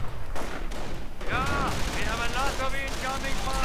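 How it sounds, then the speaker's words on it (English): Mortar fire in a World War II strategy game lands as a short run of bursts and booms, with crackling gunfire layered on top while a commentator talks over the battle. "mortar fire continues to fire away, harassing the Germans as they try to take that central victory point"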